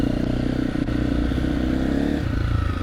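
A motorcycle roars loudly and steadily while pulling a wheelie, its engine held at a high, constant drone with faint clattering throughout.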